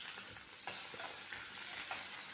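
Onions dropped into a pan of menudo-style stew with tomato paste and red pepper, giving a soft steady sizzle with faint stirring scrapes, quiet and close, no voices.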